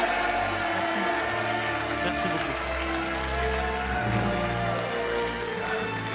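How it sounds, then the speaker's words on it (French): Studio audience applauding loudly for the contestant Monsieur Looping on a French TV quiz show, a dense steady clapping wash throughout with brief speech over it. "Je voudrais qu'on applaudisse très très fort Monsieur Looping."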